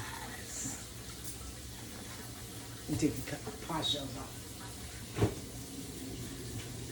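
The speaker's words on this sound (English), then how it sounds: "You hear water background? I can't help that. I'm always running water." A kitchen tap runs in an apartment during sweet potato pie baking, a faint steady watery hiss in the background while someone talks, with a few soft clatters.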